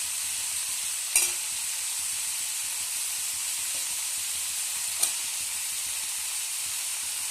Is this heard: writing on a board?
no